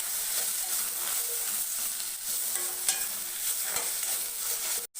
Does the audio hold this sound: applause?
no